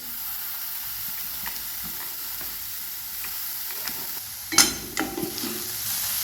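Egg bhurji sizzles steadily in a pan while a spoon scrapes and stirs it, with a few sharper clinks and scrapes near the end. No talking.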